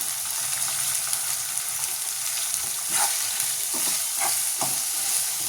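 Mixed vegetables sizzle in a hot pan with a constant bright crackle while a spatula stirs them, giving a few scraping clacks, close and steady.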